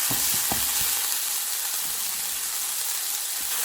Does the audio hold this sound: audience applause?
no